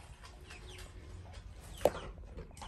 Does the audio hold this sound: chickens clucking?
yes